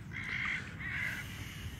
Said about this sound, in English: Boo hoo to you, crows.